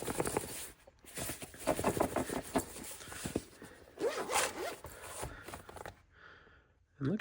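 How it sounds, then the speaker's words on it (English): A zipper on a Pittsburgh 53-piece tool kit bag being pulled in several close, rasping strokes of varying length, with someone talking briefly over it. "this zipper kept going in so far I had to like struggle to get it out"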